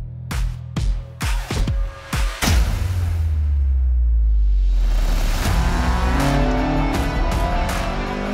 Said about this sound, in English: So we're going to see Casimiro, the owner of this car, lapping around for us.